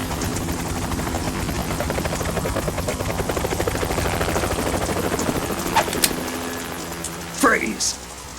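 A helicopter in the video game Metal Gear Solid 2 Substance thrums with a steady, loud rotor chop, fading slightly as a voice speaks over it near the end.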